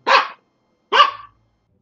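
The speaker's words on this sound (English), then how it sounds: "Sorry about that. That's my dog." A dog barks twice in SteamWorld Quest, two close, loud, sharp barks about a second apart with silence around them.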